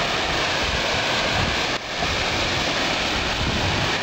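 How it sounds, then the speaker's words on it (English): Water pouring out of the Erie Canal into rough ground beside a bike path, a steady loud broadband rush with no breaks that sounds close by, with no talking. "is water flowing out of the canal."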